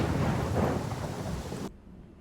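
A heavy thunderstorm in the video game Pathfinder Kingmaker rumbles loudly with dense rain and thunder before cutting off abruptly into near silence.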